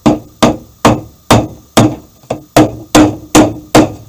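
A hammer taps down staples in steady, evenly spaced blows, about ten sharp close strikes in four seconds, loud and alone with no talk.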